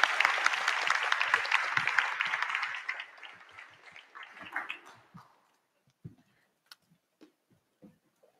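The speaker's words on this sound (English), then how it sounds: "please give a big round of applause to our panellists" Audience applause for a panel at a community event, loud steady clapping for about three seconds, then thinning into scattered claps that fade out by the end.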